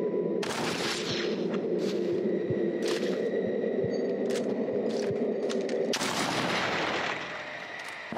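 Gunfire in the Red Dead Redemption video game during a night mission: a run of sharp, loud shots and bursts over a steady low background, with a heavier volley near the end.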